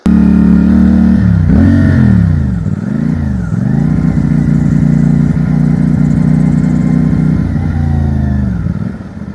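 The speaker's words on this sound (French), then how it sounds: "Et là, je vois un mec qui fait des donuts et tout. Donc je vois un rassemblement de motos." Several motorcycles at a biker gang gathering in New Zealand rev hard while one rider does donuts, the engine pitch swooping up and down repeatedly before settling into a loud, steady roar up close.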